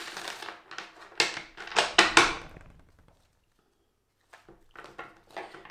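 A deck of tarot cards is shuffled up close in quick crisp bursts of riffling and slapping, followed by a short pause and a few softer shuffles.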